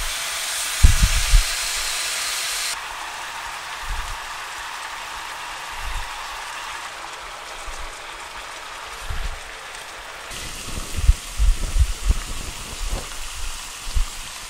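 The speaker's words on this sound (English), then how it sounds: "now we're going to cook our bulgogi" Korean bulgogi sizzles in a hot pan, a broad steady hiss that shifts in intensity as the meat is added and moved, with occasional knocks and scraping clatter of utensils against the pan.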